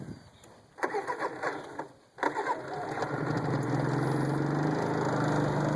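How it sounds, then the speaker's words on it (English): Generator engine on a homemade camper truck cranking with two sputtering bursts, briefly cutting out, then catching and settling into a steady running drone, close by. "Fire the generator up."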